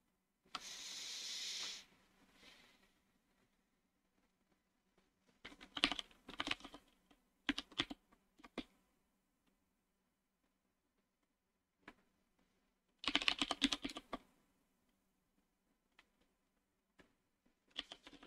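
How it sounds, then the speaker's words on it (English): Bursts of clicking on a computer keyboard come in short clusters separated by quiet pauses, close and fairly soft, with no voices during the typing. "I'm typing in random words because I have no idea."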